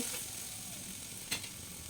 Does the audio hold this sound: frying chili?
yes